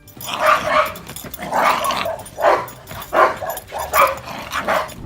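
A Dogo Argentino, a large white fighting breed, barks in a run of loud, close, repeated barks, roughly six bursts in steady rhythm, some tinged with whining, with no talk.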